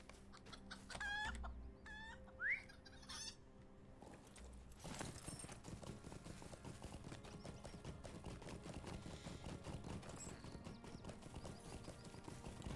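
Chickens clucking in the Lord of the Rings Online video game: a few close, bright clucks and squawks at the start, followed by a steady rhythmic clip-clop of horse hooves that continues throughout.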